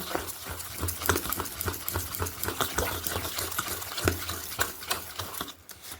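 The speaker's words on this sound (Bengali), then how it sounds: "চিনিটা আর তালের সেই পাল্পটা দিয়ে এইভাবে খুব সুন্দর করে কিন্তু মিশিয়ে নিচ্ছি" Sugar being stirred into palm fruit pulp in a bowl, a series of soft repeated scraping and squelching strokes, close and fairly quiet, with no talk.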